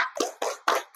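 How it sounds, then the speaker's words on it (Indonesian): In a classroom, students clap their hands together in a few sharp, separate bursts, loud and close, with a short uneven gap between each. "Tepuk tangan dulu untuk kita"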